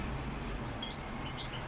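A goldfinch recovering from illness sings a few faint, high chirps and short twittering notes over a steady background hiss.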